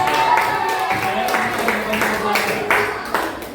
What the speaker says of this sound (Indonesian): tepuk tangan dulu untuk Novel